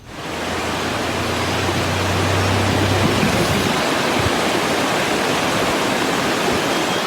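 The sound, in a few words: waterfalls with increased flow after heavy rain in Kodaikanal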